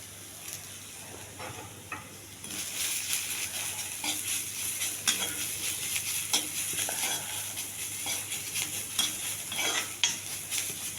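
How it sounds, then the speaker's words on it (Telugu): Coriander stems and green chillies toss and crackle in a dry pan with no oil, a soft steady sizzle stirred by a utensil that scrapes and clinks now and then, close and alone. "ఈ కాడలన్నీ కొద్దిగా వేగించాలి బాగా, పసరు వాసన పోయేంత వరకు."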